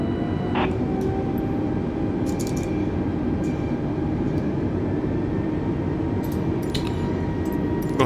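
Airbus A320neo jet engines spool up on the runway for takeoff in Microsoft Flight Simulator, a steady loud broadband roar with a low rumble and high whine holding throughout, with a few faint clicks over it.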